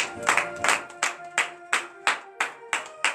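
A church congregation at morning prayer clapping in acclamation, loud and close, with about nine sharp, evenly spaced claps in a steady rhythm.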